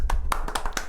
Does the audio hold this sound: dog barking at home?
no